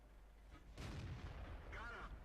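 A T-34-85 tier 6 medium tank fires its cannon in the World of Tanks video game: one heavy booming shot with a rumbling tail over low background game noise.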